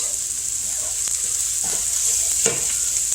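Sesame oil sizzles in a hot pan as food fries, a loud steady hiss with a few faint clicks and stirring knocks scattered through, close up and without talk.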